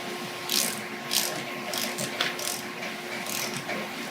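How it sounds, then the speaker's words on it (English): Rod wrench turned to expand the wedge sets of a BG38 boiler gun's ID locking device inside a tube, giving rhythmic ratcheting clicks in short bursts over a steady hum. "as you use your rod wrench to expand the wedge sets, it centers it in the ID of the tube"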